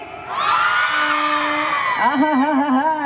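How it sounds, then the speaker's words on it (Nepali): Girls in a crowd at the Gadauli festival let out a long, loud sustained shriek together, swelling to a wavering cheer that carries to the end. "एकचोटि केटीले एक दुई दिन भन्छु केटीले मात्र कराउनु है"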